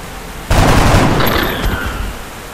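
Soldiers' gunfire in XCOM Enemy Unknown: a loud, sudden burst of rapid shots that rings on and slowly tails away, with no voices over it.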